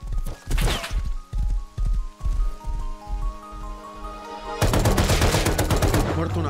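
Rapid bursts of AK rifle gunfire in the video game Rust, a quick run of sharp shots followed by a dense, louder sustained volley, with no talk over it.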